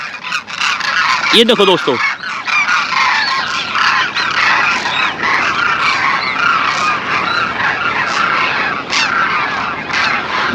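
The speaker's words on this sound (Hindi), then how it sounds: "ये है खुरजा पक्षी जो कि साइबेरिया से 7000 किलोमीटर डिस्टेंस कवर करने के बाद फिर इंडिया के अंदर आते हैं" A large flock of demoiselle cranes, the kurja birds that migrate from Siberia to the Rajasthan desert, keeps up a dense, loud chorus of overlapping trumpeting calls. A person briefly speaks over the birds near the start.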